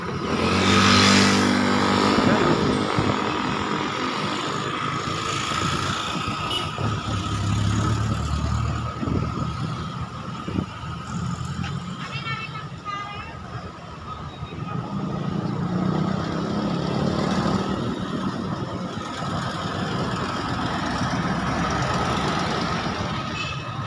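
Vehicles stream along a busy street near Barasoain Church in Malolos, Bulacan, with cars, trucks and motorcycles rumbling, idling and accelerating past at varying distances, a continuous engine din with occasional louder passes.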